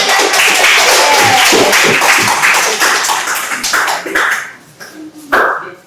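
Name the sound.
class clapping hands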